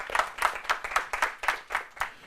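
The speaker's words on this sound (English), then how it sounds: "A round of applause," An audience at a university law quiz competition claps in a steady, rhythmic run of distinct claps, moderately loud and unaccompanied by talk.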